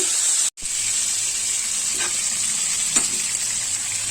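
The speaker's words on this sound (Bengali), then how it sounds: "এখন চুলা হিটে আমি মিডিয়ামে রেখে ভেজে নিচ্ছি" Chicken pieces for a homemade pizza fry in a pan over medium heat, giving a loud, steady sizzle and hiss that cuts out for a split second before resuming evenly, with a few faint stirring scrapes.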